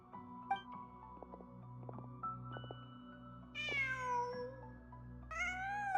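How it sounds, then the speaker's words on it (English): A cat meows twice in a video game during an Archon Quest, the clear rising-then-falling calls standing out over steady, soft game music. "Just a cat."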